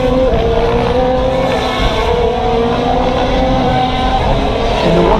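Loud, continuous engine drone from race cars at a Formula 1 weekend in Austin, a steady high exhaust note that holds throughout with no pauses and no talk over it.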